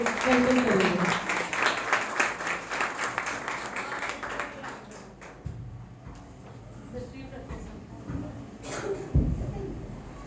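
A congregation welcomes a visiting pastor with dense, lively applause that lasts several seconds, then thins out and fades while a voice begins speaking in a hall.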